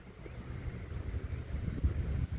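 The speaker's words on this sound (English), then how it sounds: "It's a little windy out." Wind blows steadily across a microphone outdoors in a driveway, a continuous low rumbling buffet with no speech over it.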